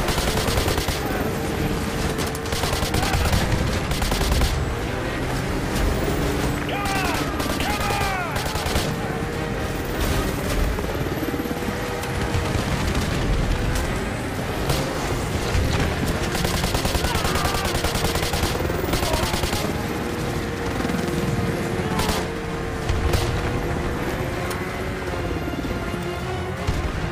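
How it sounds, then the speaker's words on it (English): Heavy automatic gunfire and explosions in the remastered Call of Duty: Modern Warfare 2 campaign, loud and continuous for the whole stretch, with rapid bursts layered over engine rumble and crashes. "we're taking heavy fire"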